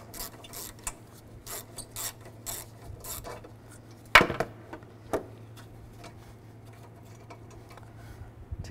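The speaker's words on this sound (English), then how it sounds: "Use a 10 millimeter socket. Take this off." A ratchet turning a 10 mm socket backs out a bolt holding down the PCM of a Chevy Equinox, giving quick bursts of dry clicking with a sharper metallic clank partway through, close up and without talk.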